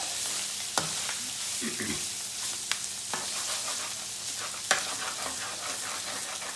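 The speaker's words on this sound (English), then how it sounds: "I'm gonna quickly mix it so everything's together" Mince pie filling is stirred quickly in a pan, giving a steady scraping, sizzling texture broken by a few sharp clicks of the utensil against the pan, with no talking.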